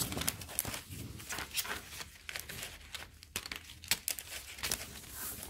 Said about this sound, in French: je viens placer le papier.